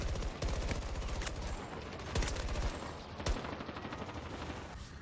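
Hip-fired AEK rifle in a video game shooter, a steady rapid stream of close, punchy automatic shots with a few sharper louder cracks standing out through the burst.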